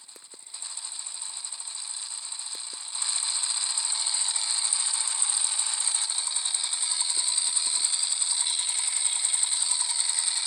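Dirt bike engine running with loose stator bolts in the magneto cover, a continuous fast metallic rattling chatter heard up close, growing slightly louder after a few seconds and holding steady.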